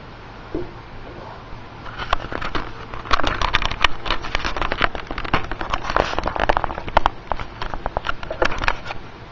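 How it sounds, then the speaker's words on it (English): A camera shaken by hand produces a dense burst of rattling, crackling handling noise, loud and irregular for several seconds, with no speech. "now that I have shaken up the camera"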